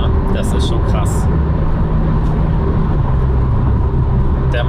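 Loud, continuous engine roar from a 450 PS Porsche 911 Carrera 4 GTS of the 991.2 generation with a PDK gearbox, pulling hard and heard from inside the cabin, with a brief shift in tone partway through.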